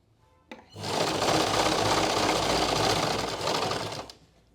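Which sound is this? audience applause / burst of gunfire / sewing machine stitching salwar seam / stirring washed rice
sewing machine stitching salwar seam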